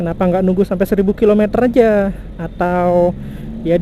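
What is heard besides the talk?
No everyday noises stand out.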